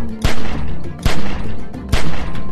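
Gunfire in The Walking Dead game: three loud, heavy gunshots spaced roughly a second apart, each a sharp crack trailing into a rumbling, sustained din of shooting and ambient noise.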